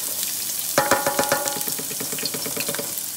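Onions hit a hot, lightly smoking pan and burst into sizzling, with sharp crackles and pops that settle into a steady rhythmic frying sound up close.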